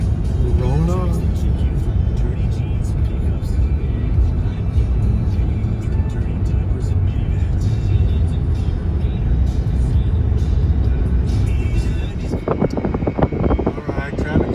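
A car rolls along old Route 66 heading down into Gallup, New Mexico, giving a steady, loud, low engine and road rumble throughout, with a change in the last couple of seconds and voices talking over it.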